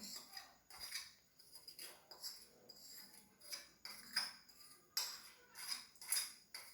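Dry cake ingredients, flour and sugar, being mixed together in a bowl with a utensil for an eggless fruit cake; repeated soft scraping and clinking strokes in a steady rhythm, close and fairly quiet, no talk.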